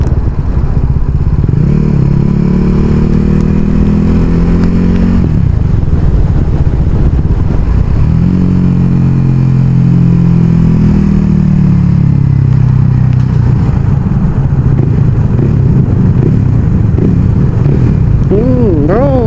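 A motorbike climbs a hill road in cold wind. The engine drones steadily under heavy wind buffeting, and a voice talks over it.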